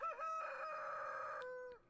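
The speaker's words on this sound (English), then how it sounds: "Cock-a-doodle-doo, asshole." A rooster crows once in the morning in the farming video game Stardew Valley, a clear sustained cock-a-doodle-doo heard alone and fairly faint, ending abruptly.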